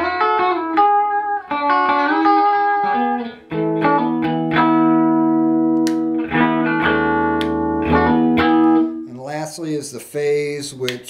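Electra Westone Phoenix electric guitar with all three single-coil pickups on, played with effects: picked notes and sustained chords ringing out loud and clean, with a burst of brighter strummed attacks near the end.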